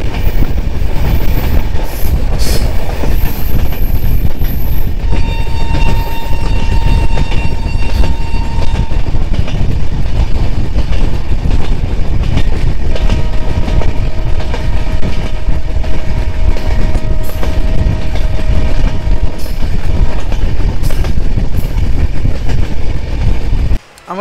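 The Kanchan Kanya Express running on rails during a Dooars trip: loud, continuous rumble and clatter of wheels with a steady rhythm, faint squealing tones running through, heard from inside the moving train.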